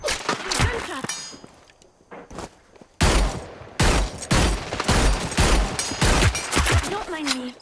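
Rapid bursts of gunfire in the Hyper Scape video game, loud and repeated in clustered volleys with metallic clangs between, briefly thinning before dense shooting resumes.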